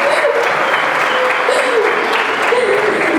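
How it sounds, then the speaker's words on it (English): A crowd applauds steadily and loudly for a student performer at the NOVA EXPO ceremony, a dense wash of clapping lasting throughout, with faint voices mixed in underneath. "Big clap for Ziad Monzer"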